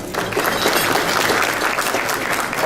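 Dense audience applause honoring sponsors at a bar association gathering, steady broadband clapping from a large crowd sustained throughout without pause.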